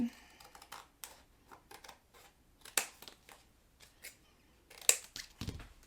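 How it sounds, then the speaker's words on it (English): Scissors snipping off excess card stock from the back of a handmade greeting card, a series of short crisp cuts spaced irregularly, fairly faint and close with no talk. "we cut off the excess. So let's just go ahead and cut that."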